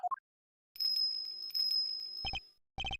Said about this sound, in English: And is that a bell around its neck? That explains the sound, I suppose.